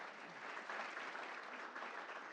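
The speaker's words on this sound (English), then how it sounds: "But round of applause for Ava anyway." Sustained applause from a school board meeting audience, a steady dense patter of many hands clapping at moderate level throughout without pause.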